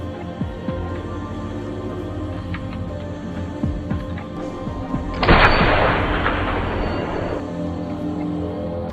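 A single loud sniper rifle shot in a war film about a Ukrainian sniper, a sharp broadband blast followed by about two seconds of rumbling decay over a quieter low background.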